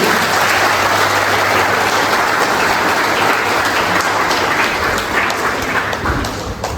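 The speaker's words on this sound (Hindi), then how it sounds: "बधाई देने के लिए जोर से ताली बजाते हैं।" Wedding guests in a Catholic church clap loudly and continuously, a dense, steady wash of applause that fills the whole stretch and fades slightly at the end.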